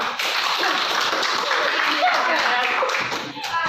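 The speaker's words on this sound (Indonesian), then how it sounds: "Yuk, tepuk tangan." A group of children clapping their hands together in a steady, busy patter, with lively voices and chatter mixed in throughout.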